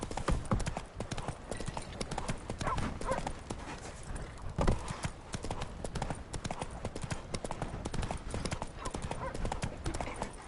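Geralt's horse Roach trots in The Witcher 3 on PS4, a steady, quick clip-clop of hooves that runs throughout at moderate loudness with faint background ambience.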